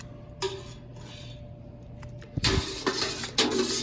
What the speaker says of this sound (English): These are actually my spoons and my beer making pot.